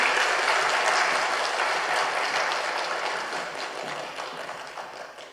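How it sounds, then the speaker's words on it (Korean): Audience applause welcoming a church elder to the front for a special lecture at a Sunday afternoon worship service, a dense, steady clapping from a room full of people that slowly thins and fades. "따뜻한 박수로 한번 모시겠습니다"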